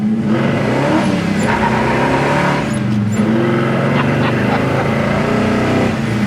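A 1970 Chevelle SS accelerates hard, its engine roaring loud and steady from inside the car for several seconds, with tone shifts as it pulls; no voices cut through.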